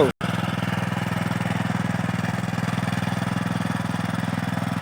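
A farm tilling machine runs in a field, its engine throbbing in a fast, even, mid-pitched pulse that stays loud and constant after a brief cut at the start.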